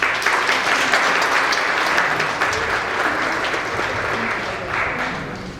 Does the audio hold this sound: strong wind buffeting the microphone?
no